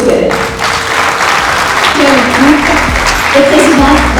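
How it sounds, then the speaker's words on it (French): Applause from an audience at a bank and Real Madrid partnership ceremony, a loud continuous wash of clapping with voices and music-like tones mixed in beneath. "Merci de les applaudir, s'il vous plaît."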